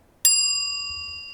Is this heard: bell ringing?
yes